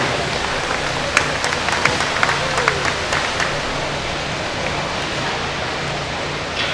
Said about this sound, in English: All of them, all 7 of them, deserve a huge, huge round of applause